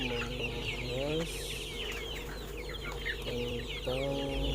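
Free-range village chickens cluck steadily inside a two-level rearing cage, several birds overlapping in a continuous, busy flock chatter with occasional louder calls standing out, close by and dense throughout.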